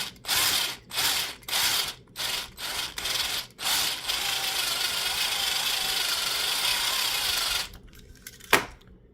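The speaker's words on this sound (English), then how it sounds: "you got to drill out these 2 rivets holding it together" A power drill bores out two rivets holding a plastic assembly together, several short grinding bursts giving way to one long continuous run, then quiet with a brief knock near the end.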